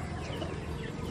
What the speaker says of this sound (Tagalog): Pakain na po tayo ng manok.